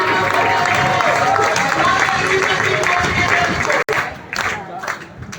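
Loud, enthusiastic audience applause with some cheering at a Gujarat marketing company event, thick and sustained before breaking off abruptly and tapering into scattered claps.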